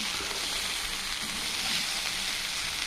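Ghee poured over steaming vegetable pulao rice sets off a steady, bright sizzle and crackle that runs continuously at close range, with no talking over it.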